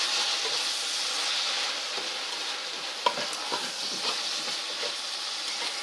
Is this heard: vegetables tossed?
yes